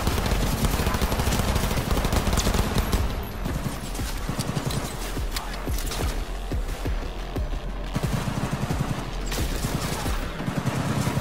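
Gunfire from a shootout in the video game Cyberpunk 2077 rattles in dense, continuous rapid bursts, loud and close, packed with sharp transient cracks that overlap one another throughout.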